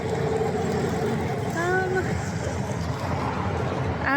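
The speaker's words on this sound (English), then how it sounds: "it's literally a bridge to the interstate, which is why you can hear all the cars." Traffic on an interstate beneath a suburban Philadelphia bridge makes a continuous roar of passing cars, with a rising engine whine from one vehicle midway. The road noise is close and steady.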